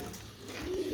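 A pet pigeon coos softly, near and fairly quiet, in one short low murmur.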